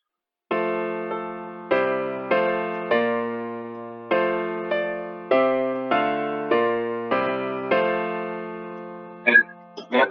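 A keyboard plays a four-part hymn arrangement with soprano, bass, alto and tenor lines, sustained chords changing in a steady rhythm, loud and close, ending with a brief faint clatter.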